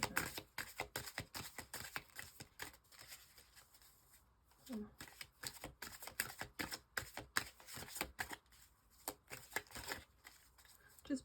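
Repeated crisp riffling and slapping of tarot cards being shuffled close up, in bursts with brief pauses, a soft voice faintly present at moments.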